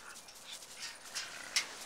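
A dog out on a sunny walk gives soft whimpers and quick pants, faint and fairly close, with a sharper yip near the end.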